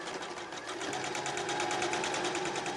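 A sewing machine back stitches fabric for a beginner bag. It runs in a fast, even mechanical whir of needle strokes that holds steady for the whole stretch, close up and alone.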